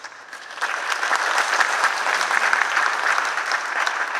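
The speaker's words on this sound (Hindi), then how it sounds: "मैं देख रहा था कि यहाँ जो बेटियों की उपस्थिति है उनकी तालियां बजती हैं कि नहीं बजती हैं।" An audience claps steadily at a felicitation event in Kanpur, dense crowd applause that swells after a quieter start and holds level with no speech over it.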